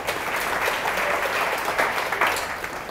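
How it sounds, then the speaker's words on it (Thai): A room of people claps together, a dense, steady burst of applause lasting a few seconds with no talking over it. "เชิญการเดินทางปรบมือให้เพื่อนหน่อย"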